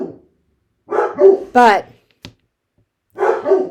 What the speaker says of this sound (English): And my dogs keep flipping out.